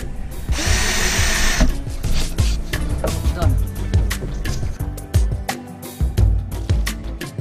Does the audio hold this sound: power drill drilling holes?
yes